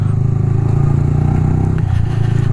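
A motorcycle pulls away with a loud, close engine note that holds steady and then dips slightly, its exhaust throbbing continuously with no speech over it.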